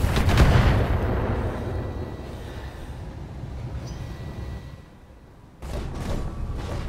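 Mech weapons fire in the BattleTech tactical video game: a heavy booming barrage with rumbling low end that rolls on for several seconds, dips briefly, then returns with fresh sharp blasts.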